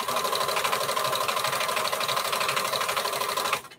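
A sewing machine runs flat out at its highest speed, a fast, steady, loud whir with a continuous mechanical buzz that holds evenly for several seconds before stopping abruptly near the end.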